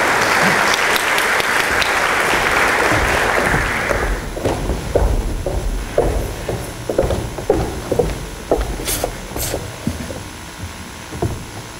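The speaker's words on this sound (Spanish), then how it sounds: "recibamos con un aplauso al doctor Carlos Amanamut." A university audience applauds to welcome a doctor to the stage, loud and dense at first, then thinning into scattered individual claps that fade out alongside footsteps.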